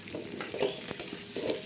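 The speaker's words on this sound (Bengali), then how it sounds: "এবার এটা আলুটা লাল লাল করে ভাজা পর্যন্ত আমি" Potatoes fry in a pan with a soft, steady sizzle, broken by a few scraping stirs and light metallic taps, close but quiet.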